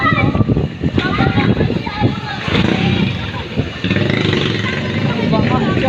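Splashing and churning through deep flood water during Typhoon Carina, with vehicle engine noise mixed in, steady and fairly loud throughout while people talk over it.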